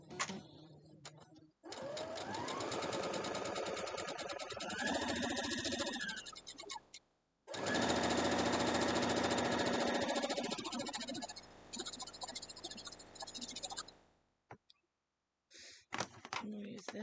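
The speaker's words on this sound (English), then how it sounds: "I'm just going to sew a line down these." A sewing machine fitted with a quarter-inch foot and diagonal seam tape stitches a seam, running in two long close bursts separated by a short pause, then stopping and giving a few brief final stitches.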